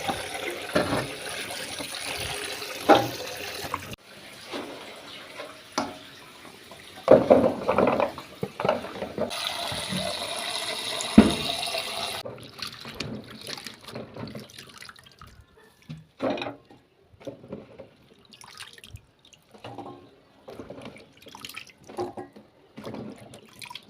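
Water runs from a tap over vegetables being washed at a sink, splashing and pattering in uneven bursts that louder rinses interrupt, then tapering into scattered drips and handling clatter.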